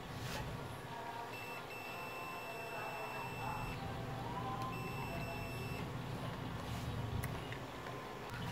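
Two long, steady electronic beeps, high and pure, from a digital multimeter's continuity test, over a low background hum with faint clicks.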